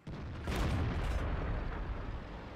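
World of Tanks tank gun firing, a single loud boom that rolls into a long, rumbling decay.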